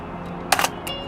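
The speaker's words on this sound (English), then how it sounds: "Shutter sounding really smooth." A Mamiya RB67 medium format film camera fires its shutter once, a crisp mechanical clack with a short follow-up click, close and clear against a quiet room.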